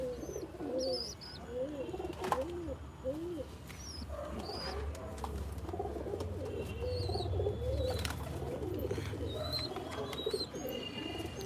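Domestic pigeons cooing nearby, repeated soft rolling coos overlapping through the whole stretch with faint chirps and low background rumble.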